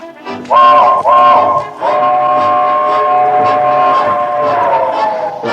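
A loud, sustained train horn blares in long held chords, cutting off briefly before sounding again over rumbling motion.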